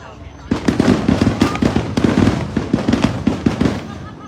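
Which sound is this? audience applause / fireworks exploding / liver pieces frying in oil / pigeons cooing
fireworks exploding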